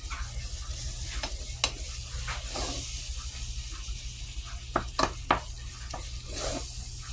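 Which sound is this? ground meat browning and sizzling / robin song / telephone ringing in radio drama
ground meat browning and sizzling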